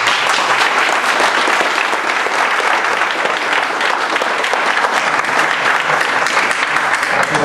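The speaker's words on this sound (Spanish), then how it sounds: "Kimberly, pues le vamos a brindar un aplauso también." Dense, loud applause from an assembled crowd at a town council meeting greets a newly voted secretary, a continuous even roar of clapping with no talk over it.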